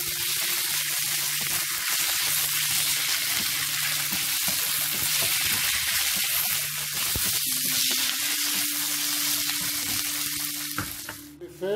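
Shrimp sizzle and fry in a hot pan as they are stirred through a Cantonese-style dish, a steady close crackle running throughout with scraping stir strokes and a brief tonal clink near the end.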